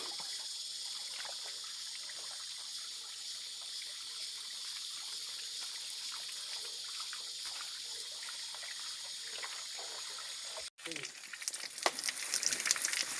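Water splashing and trickling steadily as someone washes at a spring in the Barikewa jungle, with a hiss of running water and insects throughout, then a brief cut followed by louder, irregular splashes near the end.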